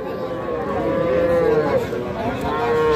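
A Sahiwal bull calf, about two and a half to three months old, lows at a cattle market with a drawn-out, wavering moo that runs almost the whole time over a steady background of market noise.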